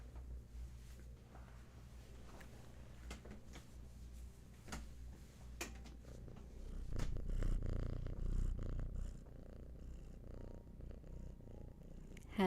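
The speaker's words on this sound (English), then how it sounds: "has some purrs for you." A cat purrs steadily and close up in a quiet room, a low continuous rumble with a brief louder swell partway through, alone without talk.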